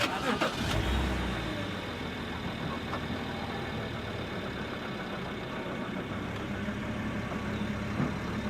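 A 2011 BMW 325i M Sport engine turns over and catches with a short loud burst, then settles into a steady low idle that runs under the remaining seconds.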